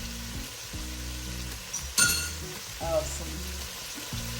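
Minced garlic sizzles steadily as it drops into a hot gumbo pot, with a continuous frying hiss, a few brief clinks and a short burst of talk in the middle.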